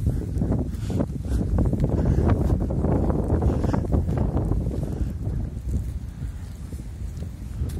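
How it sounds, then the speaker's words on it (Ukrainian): Cold, blustery wind in Truskavets rumbles and buffets the microphone in uneven bursts, loud at first and easing slightly toward the end. "Вітер, чути, що вітер?"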